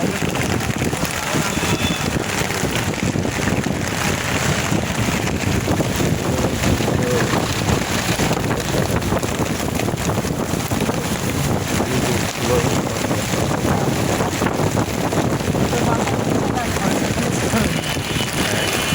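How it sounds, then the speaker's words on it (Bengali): Strong wind blowing outdoors with rain, a continuous loud rushing roar buffeting the microphone for the whole stretch. "বাতাস হচ্ছে, বৃষ্টি সহ বাতাস খরচ করে।"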